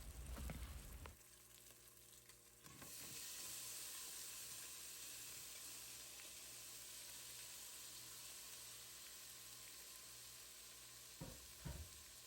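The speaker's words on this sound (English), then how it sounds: "Now we got the turkey sausage in. We're about to get these up to a nice sizzle." Turkey sausage sizzles in a pan on the stove, a soft continuous frying hiss that starts after a brief clatter and runs on evenly, with a couple of small utensil knocks near the end.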